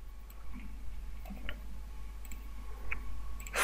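Several faint, sharp clicks spaced irregularly over a low steady hum, with a louder click at the end.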